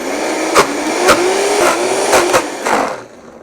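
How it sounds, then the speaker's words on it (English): A blender grinds peanuts into peanut butter, its motor whining and rising slightly in pitch while regular knocking thuds punctuate the whir, then winding down at the end. "I'm going to start blending again,"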